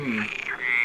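A voice imitates a frog's croak during an improvised scary story: one short, close, loud throaty croak that rises and dips in pitch, with no other sound around it.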